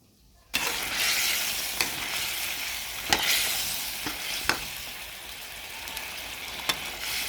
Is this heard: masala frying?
yes